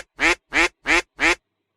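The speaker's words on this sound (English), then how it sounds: "It's a duck." Four loud, evenly spaced duck quacks, each a short nasal burst, heard alone and close with silence afterward.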